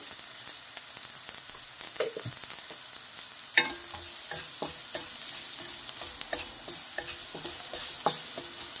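Onions lightly frying in a pan for a Bengali-style ridge gourd dish, a steady close sizzle with scraping stirs and a few sharp utensil knocks throughout, no talk.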